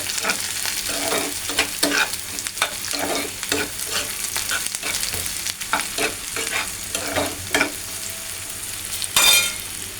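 Salted spice paste for katla fish fries and sizzles in a pan while being stirred, with a steady crackle broken by repeated scraping strokes and a sharp clatter near the end.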